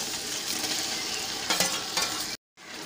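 Chopped onions browning in a pan for chicken biryani give off a dense, steady sizzle with a couple of brief louder bursts. The sizzle cuts out abruptly near the end, then resumes.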